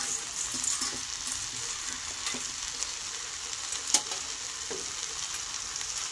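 A spoon stirs potato, eggplant and fenugreek-leaf curry with fried lentil dumplings in a pan, giving soft scrapes and knocks over a steady low sizzle, with no voices.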